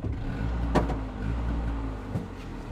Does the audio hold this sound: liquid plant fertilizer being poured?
no